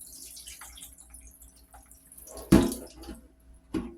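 Dry beans in a strainer are rinsed under a running tap, a soft, steady trickle of water with two sharper splashes or clatters near the end.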